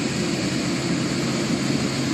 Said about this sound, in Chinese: 飞机缓慢驶进停机坪